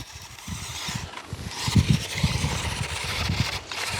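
A small 1:12 scale FMS Kubelwagen RC crawler runs at full throttle over dirt, its electric motor whining in uneven bursts with scraping and gear noise, fairly close and moderately loud.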